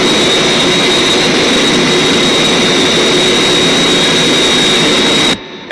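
Zero X spacecraft engines roar at lift-off in the Thunderbirds movie, a loud, constant, dense jet-like blast that fills the whole clip and cuts out abruptly just before the end.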